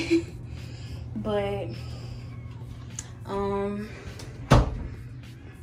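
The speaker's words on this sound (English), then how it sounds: "Let me close the toilet." A toilet lid in a small furnished apartment bathroom shuts with one sharp, loud knock near the end, while someone talks throughout.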